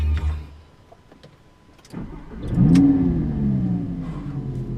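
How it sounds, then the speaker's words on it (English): A Lamborghini Gallardo LP550-2 engine cranks and fires up, rising into a loud, rough exhaust burble that settles into a steady idle close by. "It's a different sound, completely different exhaust note there."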